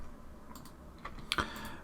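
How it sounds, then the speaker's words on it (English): A few sharp keyboard and mouse clicks from a PC player during a Football Manager 2020 session, faint and sparse, clustered near the end with a low background hum. "I'm using keyboard and mouse for this."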